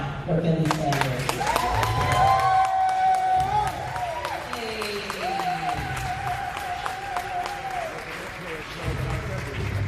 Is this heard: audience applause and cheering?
yes